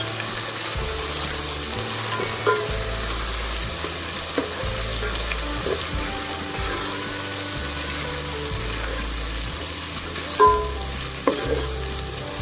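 Onions frying with ginger garlic paste for Andhra-style coconut rice, a steady close sizzle with stirring scrapes and a few louder clanks of the spoon against the pan, no voices.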